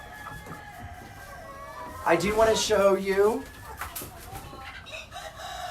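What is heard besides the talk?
chickens on a farm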